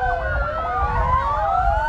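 An ambulance siren wails in Istanbul traffic, rising and falling tones overlapping as if from more than one siren, moderately loud over low road rumble.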